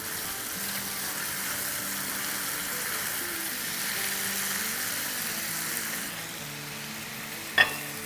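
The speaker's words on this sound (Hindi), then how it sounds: "तेल को थोड़ा सा गर्म होने देते हैं और चिकन को मिला लेते हैं" Chicken frying and being turned in hot oil in a pot, a continuous close hissing sizzle with a sharp knock near the end and no talk.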